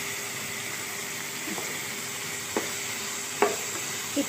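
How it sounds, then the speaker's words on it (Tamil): Chopped vegetables sizzle steadily in a pan for a Tamil-style poriyal, a constant frying hiss with a few soft clicks of stirring, and no talk. "இதை நல்லா வணக்கி விடுங்க."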